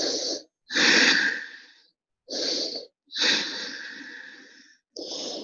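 Deep, audible breaths during a yoga flow, several long airy inhales and exhales in a slow rhythm, close and clear with short silences between them.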